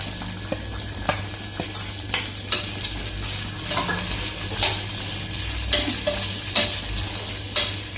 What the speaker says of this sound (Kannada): ಈಗ ನಾವು ಕಟ್ ಮಾಡಿ ಇಟ್ಕೊಂಡಂತ ಉಳ್ಳಾಗಡ್ಡಿ ಹಾಕೊಂಡ್ಬಿಡಕ್ಕೆ